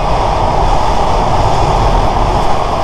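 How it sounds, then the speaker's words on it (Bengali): A train roars along at speed, a loud steady rumble with rhythmic rattling of wheels and cars throughout. "বাইরে এত শব্দ, আর এই ট্রেন এখন 100 কিলোমিটার উপরে চলতেছে"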